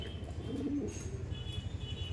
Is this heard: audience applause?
no